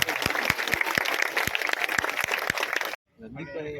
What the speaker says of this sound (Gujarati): આપણે ગગનભેદી તાળીઓથી સ્વાગત કરીશું